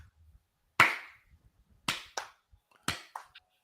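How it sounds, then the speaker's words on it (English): A sparse golf clap, a handful of slow, isolated hand claps spaced about a second apart, crisp and close in an otherwise quiet room. "Golf clap."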